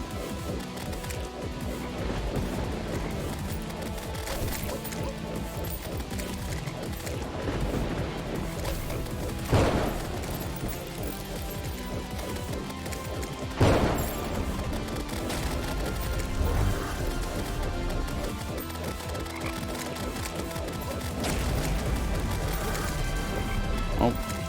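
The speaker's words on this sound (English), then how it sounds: "Someone found mortars at home." Mortar explosions in Terraria with the Calamity mod, heavy booming crashes landing amid dense continuous game music and effects, with sharper impacts around the middle.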